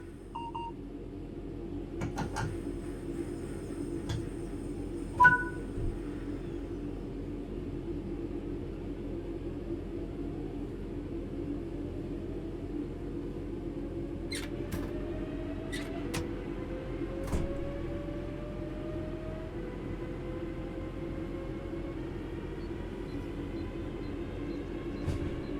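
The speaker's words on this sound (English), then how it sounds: "Let's get the train moving and see it all working." Locomotive in the Train Sim World 4 video game pulling away, a steady low rumble with rising engine and wheel tones over about 25 seconds, plus a few short beeps and clicks from the cab controls near the start.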